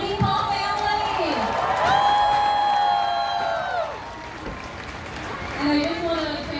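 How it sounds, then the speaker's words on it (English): An outdoor crowd at a parade welcoming Olympic gymnast Sunisa Lee in Saint Paul, Minnesota applauds and cheers, with whoops and raised voices mixed in and speech over an address system, fairly loud throughout. "we need to give a round of applause again to the Lee Paul family"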